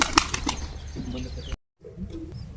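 A quick burst of wing flaps from pigeons taking off nearby, followed by a brief silence and then soft rustling and faint cooing.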